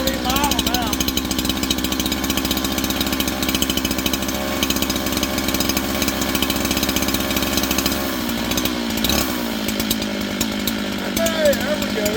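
A chainsaw engine with an air leak runs roughly near the bench, sputtering and surging as it barely holds idle, loud and continuous with a brief dip near the end.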